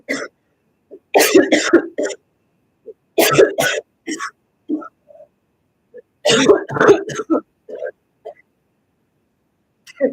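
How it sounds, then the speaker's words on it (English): A person coughs and clears their throat in several rough bursts spread across the clip, each followed by short pauses. "Cough up a lung."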